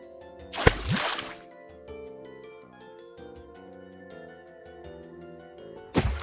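Water orb ability from H2O: Mako Magic, a watery whoosh and splash burst cast once, fading into game music, then starting again at the end.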